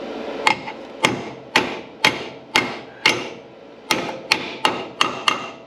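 Steel hammer blows on a welded metal panel section of a 1985 Toyota Land Cruiser under repair, about eleven sharp ringing strikes at an uneven steady pace, close and loud with short pauses between.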